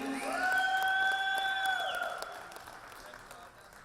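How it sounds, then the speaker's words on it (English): A crowd at a pool championship final applauds and cheers for the runners-up. Clapping and cheers swell across the room at moderate distance, mixed with a whistle, then fade over a few seconds. "Big round of applause for the team of Terrible D's"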